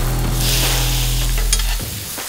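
Steak pan-searing in a hot pan, a loud close crackling sizzle with a low hum beneath that drops away near the end, leaving a brief scrape and quieter hiss.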